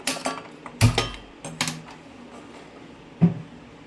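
A steel cooking pot for fish pulusu is set on the stove with several sharp metallic clanks and knocks, loud and close, separated by short quiet gaps.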